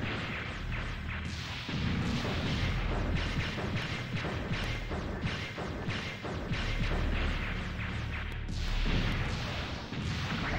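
Repeated bomb explosions and crashing impacts during a boss fight in the video game Mega Man Legends 2, a steady barrage of bursts over about ten seconds at moderate loudness.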